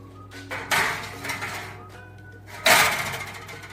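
Trays of cheese scones slide into an oven with two loud metallic clanks of baking trays on racks, each trailing off into rattling, over a low hum.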